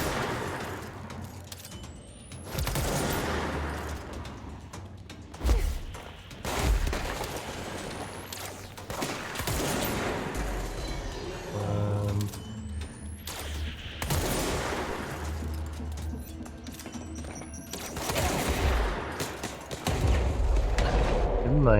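Enemy gunfire in the video game Control, bursts of shots and bangs recurring through a dense, loud game soundscape, with a voice talking over much of it.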